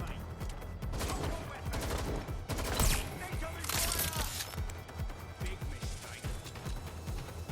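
Rapid bursts of gunfire crackle in the shooter Watch Dogs: Legion, a close, dense fusillade of overlapping shots with heavier blasts mixed in, continuing throughout.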